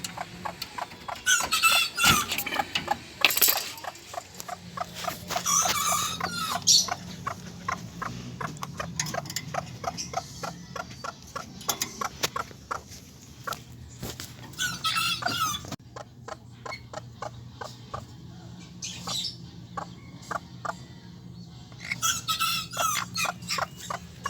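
Golden Sebright chickens and chicks peep and chirp in rapid high cheeps with soft clucks, a busy close chatter with some scratching and tapping, varying in loudness throughout.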